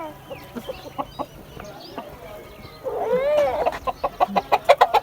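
A pet rooster, tame enough to be picked up and set down by hand, gives a quick run of close, loud clucking calls in the second half, with faint voices and handling noise around it.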